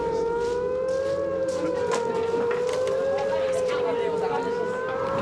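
A wailing warning siren at the Kandahar airfield base during a rocket attack, sustained and steady with a slow rise and fall in pitch, heard at a distance over outdoor background noise.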